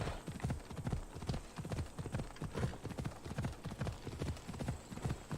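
Hooves of a flaming undead horse clip-clop in Assassin's Creed Odyssey, a steady rhythmic gallop with close, even beats and no talk.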